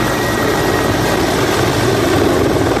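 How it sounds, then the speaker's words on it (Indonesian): Steady rotor-like whir of a toy army helicopter, loud and continuous with a broad noisy rumble, no talking. "Di atas sini ada satu helikopter army."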